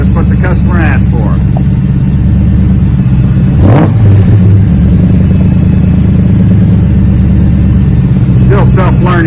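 A 1967 Dodge Charger's engine rumbles loudly and steadily through a Magnaflow muffler, with one brief blip of revs midway; a few faint voices speak at the start and end.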